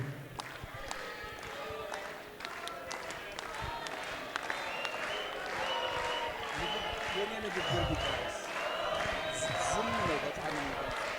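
An audience claps in a full hall at a tribute event honouring an Ethiopian artist. The applause is dense and continuous, with sharp claps standing out near the start and voices mixed in throughout.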